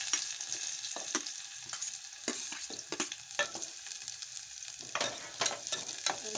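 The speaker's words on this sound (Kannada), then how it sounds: "ಎಣ್ಣೆ ಕಾದತ್ತಿ ಒಳಗಡೆ ಹಾಕ್ತೀನಿ" Cluster beans fry in hot oil for a palya, giving a steady sizzle broken by sharp, irregular scraping and stirring knocks from a spatula against the pan. It is close and clear, with no talking.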